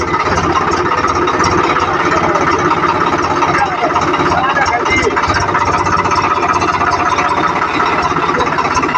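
A tractor engine running steadily while reversing, a loud, close, continuous rumbling drone with constant vibration and no letup throughout.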